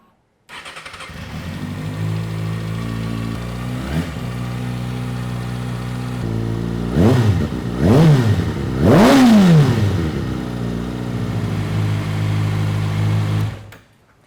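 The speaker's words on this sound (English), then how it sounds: "So let's check it out, see how this thing sounds, and let's fire this bike up." Sport bike fitted with a Leo Vince LV One slip-on exhaust cranks to life, idles with a steady burbling drone, then blips the throttle in three sharp rising-and-falling revs before settling back to idle and cutting off; close and loud, no talk.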